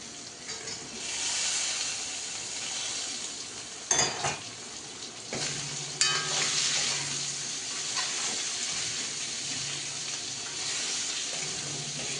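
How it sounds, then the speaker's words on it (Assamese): Broiler chicken pieces fry with softened onions in a pan, giving a steady hiss and sizzle. Now and then a spoon stirs and knocks against the pan, and no one speaks. "এতিয়া ইয়াতে মই মাংসখিনি দি দিম।"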